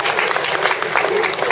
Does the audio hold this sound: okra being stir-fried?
no